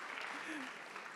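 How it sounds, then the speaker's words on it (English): Audience applause at a hotelier summit in India, a short burst of steady clapping that fills the whole moment at moderate volume, with a voice faintly audible underneath. "Give him a round of applause."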